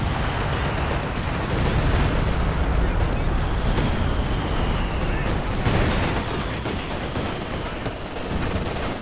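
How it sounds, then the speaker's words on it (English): Heavy B4 howitzer artillery blasts in Company of Heroes 2 rumble through a dense, continuous wall of battlefield gunfire and explosions, loud and booming for the whole stretch. "What was that huge explosion? It was like railway artillery or something."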